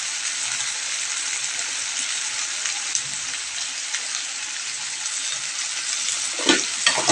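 Spices with ground cumin and green chillies stirred in a hot pan, a steady close sizzle and frying hiss with occasional scrapes of the spoon, growing slightly busier near the end.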